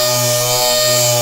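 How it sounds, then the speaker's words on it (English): An electric sander fitted with 150 grit sandpaper works over wood, giving a loud, steady motor whine with a continuous abrasive hiss and no pauses. "Let me show you how we have 150 grit set up in our sander"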